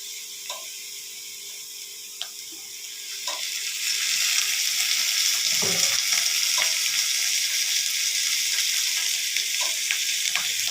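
Potatoes and onions fry in mustard oil, a steady close sizzle that swells louder partway through, with occasional clinks and stirring scrapes and no talking.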